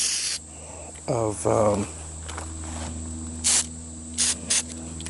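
Aerosol can of rust converter spraying a second coat onto a metal tray from an ATV, heard as several short hissing bursts in a row, close, with a brief spoken word between sprays.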